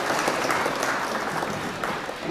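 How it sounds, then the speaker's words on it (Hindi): Warm applause from the audience at an All India Mushaira poetry gathering, a brief, full burst of many hands clapping that tapers slightly toward its end. "जोरदार तालियों से इस्तकबाल करो"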